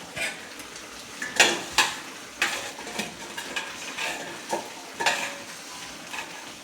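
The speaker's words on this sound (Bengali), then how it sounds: "চিকেনটা কষতে দিয়ে দিলাম।" Chicken being sautéed in a pan, a soft steady sizzle broken by recurring scrapes and stirring strokes of a spatula, close and fairly quiet.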